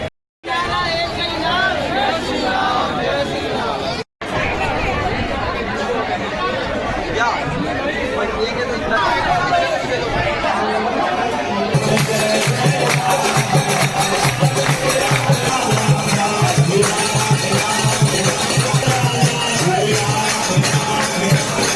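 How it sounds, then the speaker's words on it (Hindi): Large crowd packed into the Hanuman temple in Gudhiyari, Raipur, during Hanuman Jayanti, a loud and constant babble of many voices close by, with a nearer voice talking over it and a denser rhythmic clamour joining midway. "हनुमान जयंती में यहाँ पे बहुत ही ज़्यादा भीड़ बने हुए हैं"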